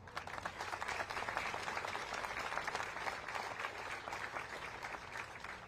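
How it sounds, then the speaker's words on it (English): Sustained applause from a crowd, dense and steady clapping that continues throughout without pause. "Please give our guests a round of applause."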